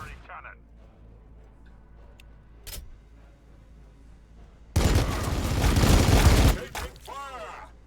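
Gunfire in Warhammer Battlesector bursts out as a loud dense volley lasting about two seconds, following a quieter stretch with a brief sharp crack and a voice speaking.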